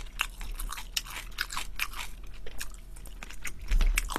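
Close crunchy chewing and biting while eating cream tteokbokki with kimchi, a steady stream of moist crunches near the microphone with no talking.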